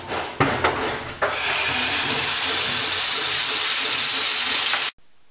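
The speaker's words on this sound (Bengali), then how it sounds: "তেলটা গরম হয়ে গেছে, দিয়ে দিচ্ছি 1/2 চা চামচ আস্ত জিরা, 1/2 চা চামচ সরিষা বাটা।" Whole cumin and mustard paste hitting hot oil for a rohu fish masala curry: a few clicks, then a loud, steady hissing sizzle that holds for several seconds before cutting off abruptly.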